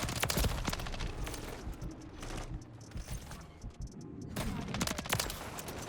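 BAL 27 rifle automatic fire in the Modern Warfare 3 video game crackles in rapid bursts of shots, dense at the start and end with a quieter gap in the middle.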